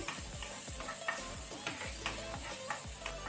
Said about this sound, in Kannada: ಆನಂತರ ಗಾರ್ಲಿಕ್ ಬೆಳ್ಳುಳ್ಳಿ, ಅದನ್ನು ಸ್ವಲ್ಪ ಲೈಟ್ ಕೆಂಪಾಗೋ ತನಕ ಫ್ರೈ ಮಾಡ್ಕೊಳ್ಳಿ, ಲೋ ಫ್ಲೇಮ್ ಅಲ್ಲಿ.